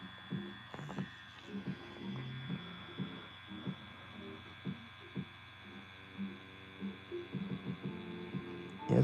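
A Bishop Wand Packer tattoo machine with a 7-round shader runs at 6.6 volts, a faint steady electric hum with soft irregular throbbing pulses as it works, no voices.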